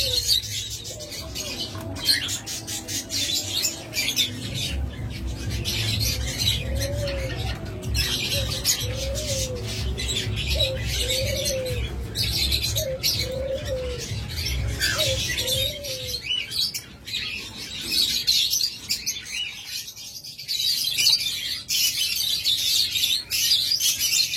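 Pet birds for sale, including lovebirds, budgerigars, doves and cockatiels, chirp and squawk steadily and fairly close, with repeated short calls and a brief burst of coos and tweets partway through, all without speech.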